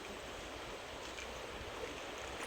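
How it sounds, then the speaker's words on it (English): Flowing river water outdoors in a natural setting, a steady broadband rush with a low rumble, continuous and even throughout with no voices. "River flowing"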